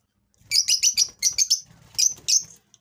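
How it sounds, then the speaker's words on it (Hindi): Pet Australian parrots, yellow and green, kept in a room on a rooftop, give a rapid series of bright, close chirps in bursts. A few short gaps fall between the calls, and there is no talk. "हमारे पास येलो कलर के भी तोते हैं"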